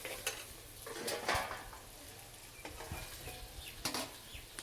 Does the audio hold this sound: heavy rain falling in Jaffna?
no